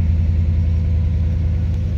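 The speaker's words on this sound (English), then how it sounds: "The engine's roaring away." Old, rusted, banged-up Chevrolet Squarebody Suburban idling in an abandoned shopping-center parking lot, its engine giving a steady, loud, low rumble throughout with no variation.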